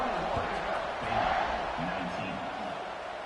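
Football stadium crowd at a Baylor versus BYU college game buzzing after a score, a steady roar of many voices filling the whole stretch with a brief swell midway.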